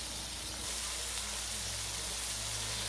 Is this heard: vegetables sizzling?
yes